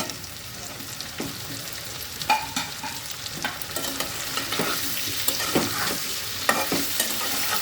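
Cauliflower and mixed vegetables fry in a pan while a spatula stirs them, giving a steady close sizzle broken by repeated scraping clicks and knocks against the pan, with no talking.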